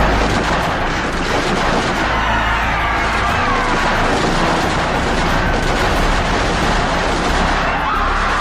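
Staged gunfire effects during an Independence Day school play, a dense and loud continuous barrage of booming shots and bursts that fills the whole stretch, with no clear talk over it.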